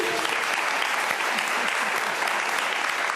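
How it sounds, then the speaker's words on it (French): An audience claps steadily and loudly, a dense unbroken burst of applause. "Qu'on applaudit."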